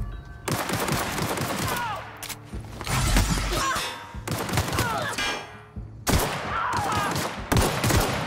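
Bursts of rapid gunfire erupt in combat in The Outer Worlds, loud clusters of shots and crackling volleys separated by brief lulls, close and harsh throughout.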